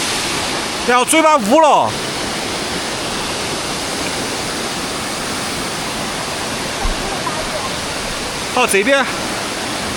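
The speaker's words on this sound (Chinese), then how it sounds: "现在我在瀑布这儿" Zhaga waterfall at Munigou in Songpan roars as a loud, steady broadband rush that fills the whole clip, with a few brief bursts of speech at the start and near the end.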